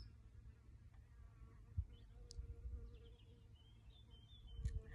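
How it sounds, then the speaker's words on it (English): Bees buzzing outdoors on a spring day, a faint steady insect drone with a few brief louder passes close by, alongside scattered bird chirps. "Can you hear the bees, the birds?"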